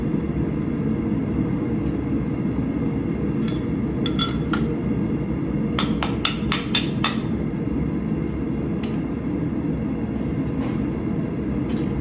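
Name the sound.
hammering hot round bar on anvil during forge weld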